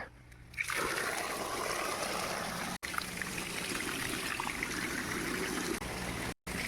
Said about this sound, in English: Make sure this is draining properly